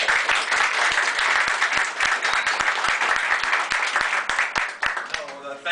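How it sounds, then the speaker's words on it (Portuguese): Audience applauding at a comics workshop in Brazil, a dense steady round of clapping that fills the room and fades as a voice begins near the end. "Salve de palmas para ele."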